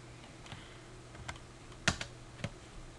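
A few sparse keystrokes are typed on a computer keyboard while entering numbers in a drawing program, quiet and close with irregular spacing and one sharper click.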